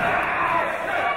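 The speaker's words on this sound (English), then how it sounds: "Listen to this crowd, there is no question whose side they are on" A wrestling crowd cheers and roars loudly and steadily for a British wrestling match, a dense wall of voices filling the room without a break.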